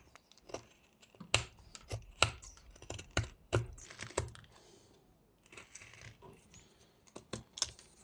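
Whittling knife pressing stop cuts into wood while carving a small Christmas gnome, a quiet series of sharp close clicks and taps in irregular bursts with brief pauses between them, and no talking.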